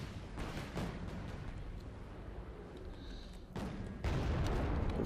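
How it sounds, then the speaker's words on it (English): Gazelle helicopter cannon fire in the Wargame Red Dragon strategy game, a few sharp bursts and booming impacts over a rumbling battlefield background, fairly loud with a heavier blast near the end. "Gazelle cannon."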